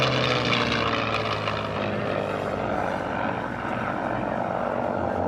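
A P-51 Mustang propeller fighter roars past at an air show, its loud, rough engine drone steady and close for several seconds with no talk over it.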